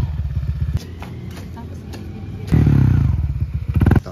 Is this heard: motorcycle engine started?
yes